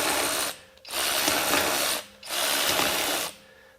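SKIL PWRCORE 12V brushless cordless ratchet running in three loud, close bursts of whirring, buzzing mechanism noise separated by short gaps.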